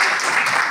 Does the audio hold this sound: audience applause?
yes